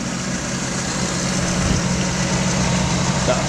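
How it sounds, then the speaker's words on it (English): A Jeep CJ-7 engine with an aluminum radiator idling smoothly, a steady low rumble that holds even and close for the whole stretch, with no change in revs. "The motor idles smooth, runs good."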